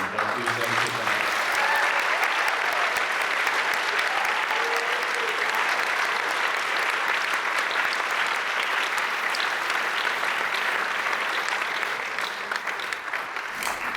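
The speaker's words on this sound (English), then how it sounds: "Please join me in another round of applause for tonight's" An audience at the Kentucky Writers Hall of Fame awards gives a sustained round of applause, dense and even clapping that lasts throughout and fades slightly at the end, with a voice briefly heard at the start.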